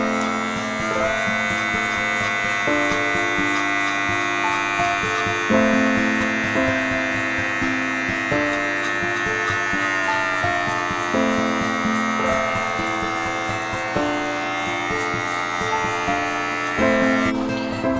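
Electric hair clippers fitted with a half guard, lever opened two notches, fading hair: a steady bright buzz with bursts that shift in pitch every couple of seconds as the blades pass through hair, with no talking.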